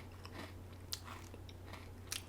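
Crunchy Greek kritsinaka croutons with pesto flavour being bitten and chewed close up, a few sharp crisp crunches spread over a couple of seconds against quiet background hum.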